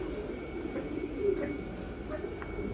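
Thai Titan meat pigeons cooing at a breeding farm, soft low coos rising and falling over a steady hum of background noise, with no one speaking.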